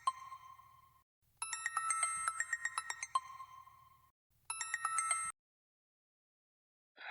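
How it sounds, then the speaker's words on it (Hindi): A mobile phone ringtone rings in a repeating electronic chime pattern, loud and close, in bursts separated by short pauses before cutting off. "इस वक्त किसका फोन है?"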